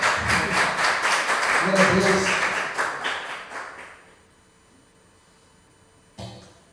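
A church congregation claps and cheers loudly for the first four seconds, then the clapping fades into near quiet before a voice speaks.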